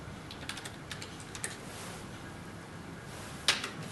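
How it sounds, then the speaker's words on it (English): Keystrokes on a computer keyboard entering calorie figures into a spreadsheet, a quiet run of irregular taps with one sharper, louder key press near the end, no voices. "type in the calories for each type of food"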